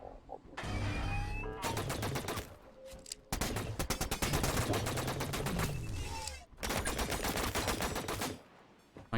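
Sustained rapid automatic gunfire in the video game Signal from Tölva, long dense bursts broken by short gaps, loud and close with faint whining game effects underneath.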